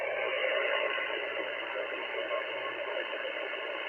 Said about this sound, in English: all I'm getting is noise.